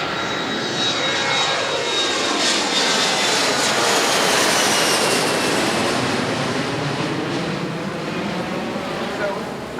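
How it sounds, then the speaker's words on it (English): An airplane takes off near Washington, DC, its jet engines roaring loud and sustained throughout, a broad steady rush that swells slightly mid-way, with faint voices in the background. "I make no guarantees about the planes taking off"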